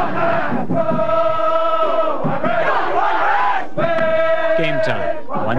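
Notre Dame football fans at a tailgate party chant and roar together in loud, sustained bursts of shouting, with a brief dip in the middle before the crowd swells again.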